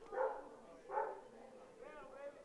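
A dog barks twice at a high school baseball game, faint and distant across the field, followed by a softer whining yelp amid low crowd noise.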